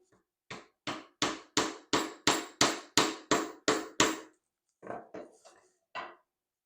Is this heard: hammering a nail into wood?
yes